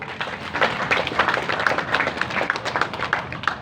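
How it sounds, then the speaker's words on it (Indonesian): Applause from the audience at a regency head candidates' public debate in Pesisir Barat, 2020: dense, steady clapping from many hands, fairly close and sustained for several seconds without talk. "Kita kasih tepuk tangan lagi biar semangat."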